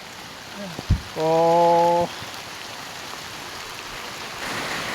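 Steady rain patters on a camping tent in the Thai countryside, a constant hiss throughout, briefly interrupted by a loud drawn-out vocal exclamation.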